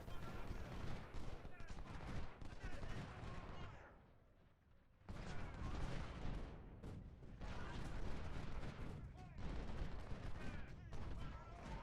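Dense, continuous musket and artillery fire from a Civil War battle in Ultimate General: Civil War. The shooting rolls on almost without pause, with a brief lull partway through before it resumes at full intensity.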